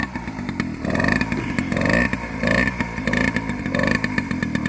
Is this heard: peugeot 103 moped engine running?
yes